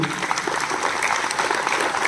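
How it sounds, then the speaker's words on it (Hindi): An audience at a National Sports Day event claps steadily in a brief, dense burst of applause that fills the whole moment, with faint voices mixed in underneath. "आप सब भी तालियां बजाइए"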